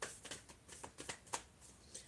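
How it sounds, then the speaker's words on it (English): Tarot cards are shuffled close up in a quiet room, giving a run of soft, crisp riffling and flicking bursts with short pauses between them. "So I'm just going to shuffle them."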